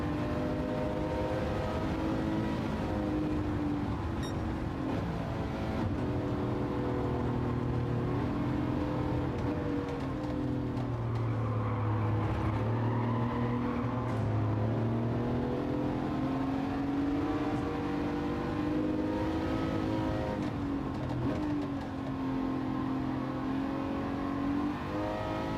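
Car in a racing video game accelerating hard, a loud sustained engine roar that climbs and shifts in pitch through repeated revving and gear changes, continuous for the whole stretch with no talk.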